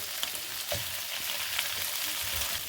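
Chicken and finely chopped carrot fry in a pan with a close, continuous sizzle, broken by soft thumps and scrapes from stirring.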